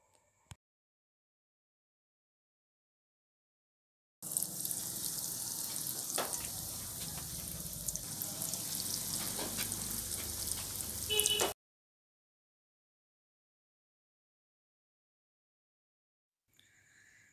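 An egg drops into hot oil in a pan for stuffed egg 65 and sizzles loudly and close for about seven seconds, a dense crackling hiss with a few sharper pops, then stops abruptly and leaves near silence.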